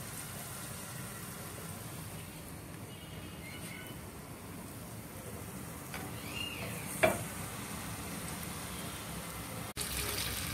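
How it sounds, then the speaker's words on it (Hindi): Battered spicy banana pieces frying in hot oil, a steady close sizzle running throughout with a brief clink partway through and no talking. "इसको हम इसे मिक्सचर घोल में इसमें डालेंगे और हम इसको फ्राई करने डाल देंगे।"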